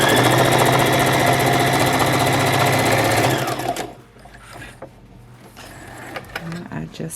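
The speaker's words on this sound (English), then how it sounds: "Back stitch at the beginning and the end, and just sew straight across." A sewing machine runs close and loud in a fast, even stitching rhythm for a few seconds while sewing a straight fabric seam for a clutch wallet, then stops, leaving soft handling clicks and a voice speaking briefly.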